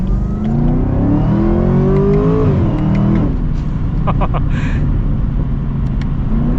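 A 2024 Chevy Corvette or Camaro ZL1 engine revs up loudly and close, its pitch climbing then dropping into a rumbling idle, with a few faint clicks afterward.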